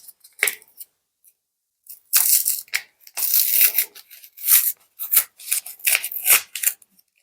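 A foil booster pack of trading cards is torn open up close in a series of sharp, crinkly rips and rustles, irregular bursts broken by short pauses as the wrapper gives way unevenly.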